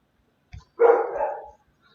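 A pet dog at home lets out one loud, drawn-out bark close by, preceded by a faint soft thud, then quiet.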